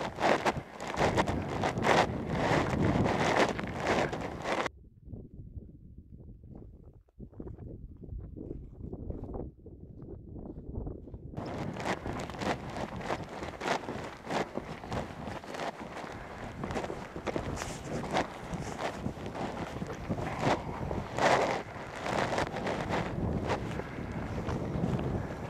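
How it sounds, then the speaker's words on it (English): Heavy wind buffets the microphone at abandoned mine ruins near Yerington, Nevada, with a loud, rumbling roar that drops away briefly before returning in full force for the rest of the clip. "I do apologize for the wind, it's pretty windy out here."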